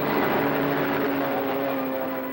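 A cartoon airplane's propeller engine drones steadily and loudly, a constant hum with a faint whine running through it, heard alone.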